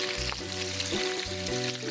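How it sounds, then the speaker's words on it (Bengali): Fish frying in oil in a pan on a kitchen set, a steady close sizzle with crackling bursts throughout, no voices. "যতক্ষণে মাছগুলো ভালো করে ভাজা ভাজা হচ্ছে"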